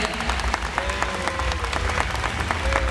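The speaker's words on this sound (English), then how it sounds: "Let's have one of applause for our volunteers." An audience at a SeaWorld San Diego killer whale show applauds its volunteers with steady, crowd-wide clapping, heard from a distance amid ambient stadium noise and a faint whistling tone.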